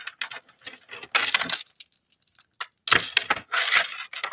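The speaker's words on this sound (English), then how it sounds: "So we got to start that shuffle over." A full deck of playing cards being shuffled by hand, with several bursts of crisp riffling and flicking card sounds separated by short pauses, close and fairly clear with no talking.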